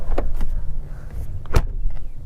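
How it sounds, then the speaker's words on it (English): A Volkswagen Touareg's rear door swings shut with one solid, close thunk and no soft-close assist, preceded by a few lighter clicks and handling noises against low background rumble. "the back door, listen"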